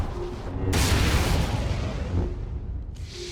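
Overloaded generators explode on a foundry level in Star Wars: The Old Republic, giving a loud, close, rumbling blast that lasts a couple of seconds and then fades into a dull roar.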